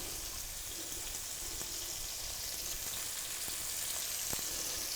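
Sliced onion half-rings frying in a pan, a steady close sizzle with soft crackles and an occasional faint tap of a utensil, no speech.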